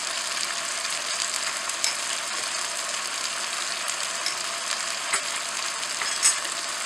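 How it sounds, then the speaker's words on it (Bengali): Koi fish frying with turmeric, salt and spices in a pan, a loud, steady, close sizzle running throughout with a few faint stirring clicks, no talking. "মশলা দিয়ে একটু কষলো"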